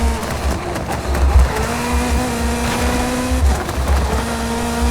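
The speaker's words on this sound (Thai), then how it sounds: "ยินเสียงแมกลาเรนข้างหลังบีมาแล้วครับแมกลาเรน" A McLaren race car engine in a racing video game roars steadily up close, its pitch holding then shifting as it revs, with faint tire noise and no talking.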